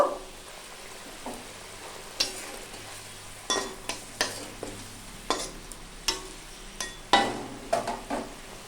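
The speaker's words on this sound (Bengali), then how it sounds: "ঝোল ফুটে গেছে, ভেজে রাখা মাছ দিয়ে দেব" Fried fish goes into boiling curry gravy in a pan, with a continuous bubbling sizzle broken by repeated sharp spatula knocks and scrapes, close up and without talk.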